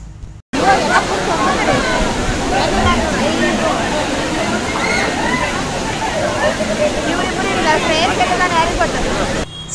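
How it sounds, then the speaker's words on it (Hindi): Vibhooti waterfall pours down in layers, a loud, constant, gurgling rush of falling water close by, with the murmur of people chatting faintly underneath. "All you hear is the gurgling sound of the water falling in layers."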